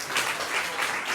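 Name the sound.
audience applause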